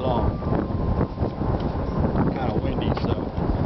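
Gusty wind buffets the microphone outdoors, a steady low rumble filling the whole stretch at close range.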